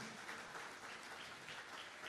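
A church congregation at a Spanish-language apostolic service applauds steadily, a dense wash of many hands clapping at once with no pauses, loud and sustained throughout.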